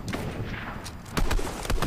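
Gunfire in the Fortnite video game: a burst of sharp shots, with a louder cluster of impacts midway and more toward the end, over a busy game background with no talk.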